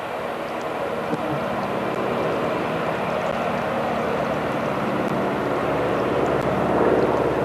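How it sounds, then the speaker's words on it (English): A small airplane drones steadily overhead in the Alaskan wilderness, a broad continuous engine rumble that slowly swells louder as it nears, with faint speech and outdoor noise underneath. "Oh wait, I hear another plane."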